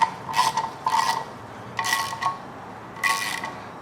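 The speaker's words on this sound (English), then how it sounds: "we're going to grab 9/16 socket and just tighten it down" A 9/16 socket wrench tightens a bolt on a Ford 302 small block engine, giving short metallic rasping ratchet clicks in four quick bursts, close and fairly quiet, with no talk.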